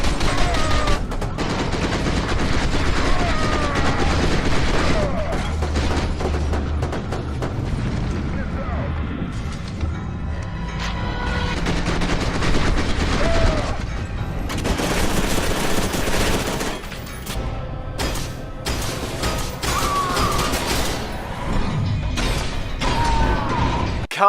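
Shooter video game gunfire, including machine-gun bursts and booming shots, mixed with mechanical weapon sounds and running under steady narration for most of the stretch.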